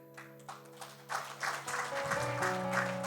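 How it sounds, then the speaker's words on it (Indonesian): Congregation applause at a church worship service, faint scattered clapping that swells into steady applause while sustained music tones play underneath. "Tunggu dulu Pak, tepuk tangannya belum jelas apa isinya ini."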